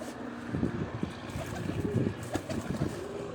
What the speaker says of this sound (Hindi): ये कबूतर को देखें, बोल भी रहा है माशाल्लाह